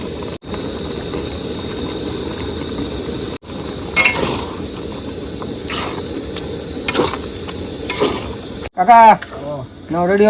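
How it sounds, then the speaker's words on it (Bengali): Chopped onion and chilli fry in a pan at an outdoor cooking spot by a Sundarbans river, a steady hiss and sizzle broken by clinks and scrapes, with a voice talking near the end. "এবার দিব পেঁয়াজ লঙ্কা কুচি আর মশলা রেডি"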